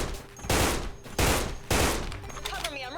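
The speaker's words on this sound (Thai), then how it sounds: "วิธีการยิงของพี่แอลเนี่ยก็จะเป็นแบบใช้สไลด์การยิงสไลด์ยิงอย่างเงี้ยครับ" Bursts of SIG551 rifle fire in the Special Force 2 video game come in three loud, evenly spaced volleys, each a rapid clatter of shots.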